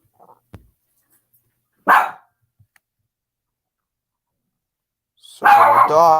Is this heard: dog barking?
yes